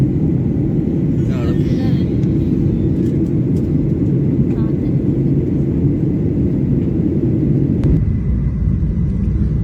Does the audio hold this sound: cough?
no